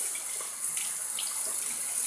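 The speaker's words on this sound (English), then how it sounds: "Keep the hot water going." Hot water runs steadily from a bathroom tap while a double edge safety razor is rinsed clean, a soft continuous hiss of flowing water close by with no talking.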